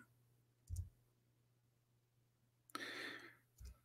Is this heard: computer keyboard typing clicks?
yes